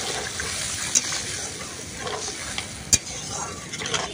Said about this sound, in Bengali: এর মধ্যে দিয়ে দেবো পরিমাণ মতো জল